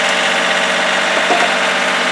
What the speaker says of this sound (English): to start the engine.